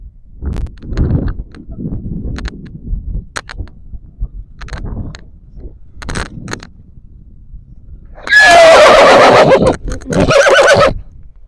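A horse gives a loud, close whinny lasting a few seconds, followed by a second shorter neigh, after scattered shuffling and knocking sounds.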